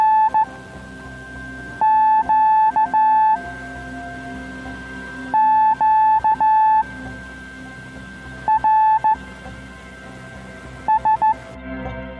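Slow Morse code from an 80-metre amateur radio band net sounds as clean, steady tone bursts in spaced groups of dots and dashes over faint background hiss, with a second fainter tone and no voices.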